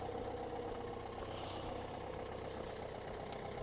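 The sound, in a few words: passing car noise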